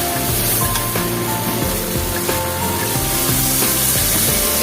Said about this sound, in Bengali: এবার জল অ্যাড করে দেবো